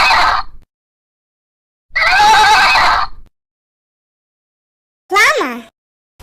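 A horse whinnies loudly and close by in three separate bursts, the last a shrill, wavering neigh, with stretches of silence between them.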